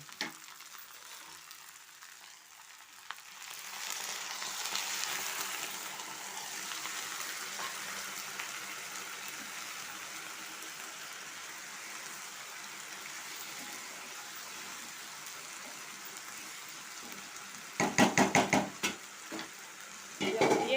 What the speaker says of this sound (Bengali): এখন আমি এতে সামান্য জল দিয়ে দেব।